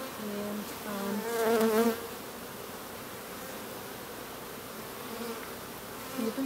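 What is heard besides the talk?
bees buzzing in hive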